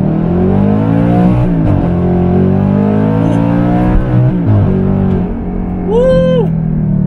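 An Audi R8 with a V8 engine accelerates steadily through its gears via paddle shifters on a Philippine road, a loud, constant engine drone rising in pitch with a quick shift blip near the end.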